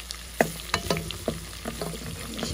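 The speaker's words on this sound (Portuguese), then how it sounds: "Coloquei ele bem perto da gordura. Aí ele vai fritar aqui." Saffron frying in fat on a wood-fired stove: close sizzling and crackling with sharp pops and stirring scrapes in an uneven rhythm, and no talking.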